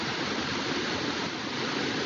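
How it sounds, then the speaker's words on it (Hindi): A waterfall roughly 150 to 200 feet high roars in a steady, dense rush of white water that stays even and loud throughout, with no voices over it. "झरना है कम से कम 150 से 200 फीट के आसपास हवे झरना है"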